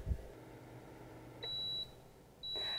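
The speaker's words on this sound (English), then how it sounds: "the timer will go off and we'll flip them" A kitchen timer beeps twice at medium loudness, each a steady high electronic tone lasting under half a second, set against a quiet room hum while chicken breasts cook.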